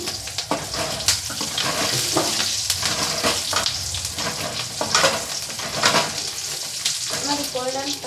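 Curry leaves frying in oil until golden for an okra sambar, a steady close sizzle with scattered crackles and stirring scrapes throughout, a little water-like hiss mixed in.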